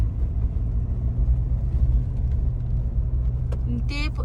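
A car drives along a rough, bumpy road, its interior filled with a steady low rumble and the faint rattle of the body shaking, and a short voice-like sound comes near the end.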